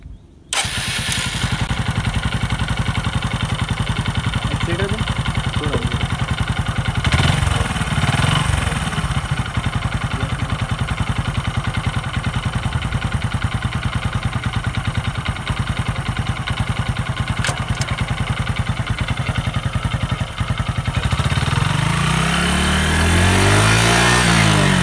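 A Hero Glamour 2020 motorcycle's single-cylinder, air-cooled 124.7cc petrol engine runs loud and steady at close range for about twenty seconds, then its pitch climbs as it is revved near the end.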